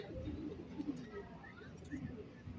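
Faint, low cooing from an Andalusian pigeon comes in short soft phrases over a muffled background rumble.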